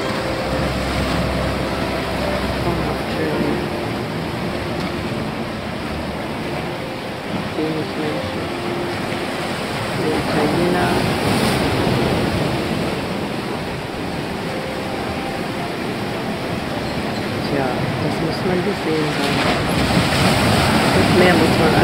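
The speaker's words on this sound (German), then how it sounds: "Leichter Wellengang." Gentle sea waves roll against the rocky shore near Corniglia on a calm day, a steady broadband wash with soft surges and some wind on the microphone, with no talking over it.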